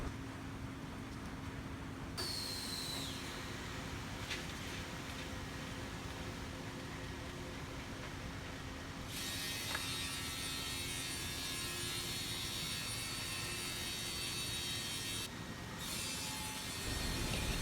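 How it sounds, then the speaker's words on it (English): A CNC machine trims the four edges of an MGO board in a factory, giving a continuous loud grinding, sawing roar with shifting bursts of cutting noise, steady throughout with no speech. "we will use this CNC machine to cut in the four edges of MGO board according to customer's requirement size"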